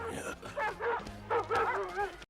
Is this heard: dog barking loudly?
yes